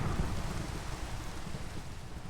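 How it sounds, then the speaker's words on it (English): Rain falling in Minecraft, played on the Monifactory modpack, a steady dense hiss with a low rumbling undertone, fairly faint and continuous throughout, no voices. "The rain is just loud, music's not quiet."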